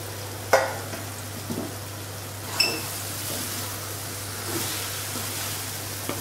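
Fried yam pieces are stirred into a masala in a pan, with a soft sizzle and a few sharp scrapes and clinks of a spoon against the pan under a constant low hum. No one speaks.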